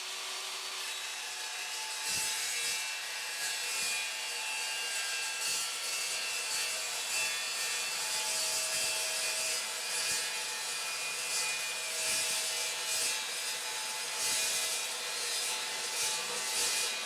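Steady hand sawing through a cut, with rhythmic strokes repeating at an even pace, fairly close and consistent throughout, with no talking.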